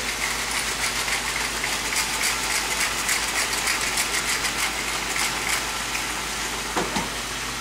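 Steady ratcheting grind of a hand pepper mill cracking fresh black pepper, a fast repeating clicking texture held close and continuous for several seconds.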